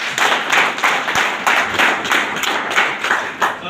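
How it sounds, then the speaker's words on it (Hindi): Loud, dense applause from an audience at a motivational networking event in India, a steady wash of many hands clapping that rises and falls in bursts throughout, with no voices over it. "एक बार आप सबके लिए जोरदार ताली।"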